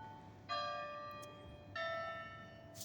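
A church bell tolls twice, each strike ringing out and slowly fading, distant and alone against quiet background noise.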